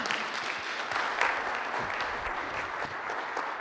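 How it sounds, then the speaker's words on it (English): Applause from a seated audience at a meetup event rises into a steady, dense clapping that fills the room for several seconds. "so please give Scott a big round of applause."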